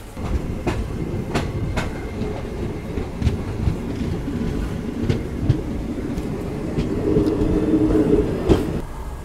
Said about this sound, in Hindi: जैसे ही वंदे भारत निकली हमें तुरंत यहाँ से डिपार्चर का संकेत जो है वो मिल गया